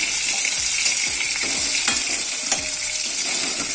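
Prawns lightly frying in oil, a dense close sizzle with rhythmic spatula scrapes against the pan every half second or so, steady and loud with no talking.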